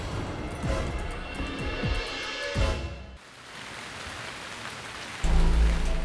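Heavy rain pours down on EDSA in Manila traffic in a dense, continuous hiss, with low rumbling thuds early on and a sudden louder swell near the end.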